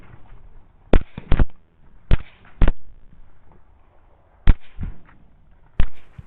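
Sharp rifle shots from a .300 Blackout rifle during a pig hunt, about six loud, distinct cracks spaced unevenly over several seconds, some in quick pairs, with quiet outdoor background between them.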